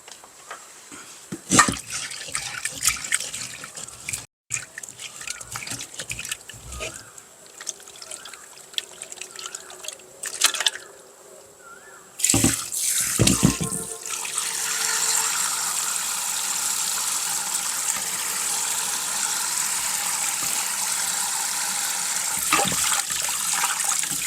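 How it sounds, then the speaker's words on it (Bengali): Tap water runs over freshly cut fish being washed with salt, first as scattered splashes and handling noises, then as a steady, close stream of pouring water. "আমি মাছটা কেটে ধুয়ে নিচ্ছি লবণ একটু লবণ দিয়ে ধুয়ে নেই"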